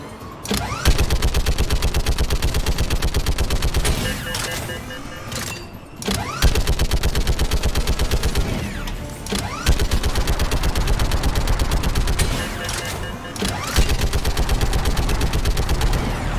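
Rapid automatic gunfire from guns in the Mass Effect video game rattles almost continuously and loudly, in long dense bursts broken by a few short pauses, with no talking over it.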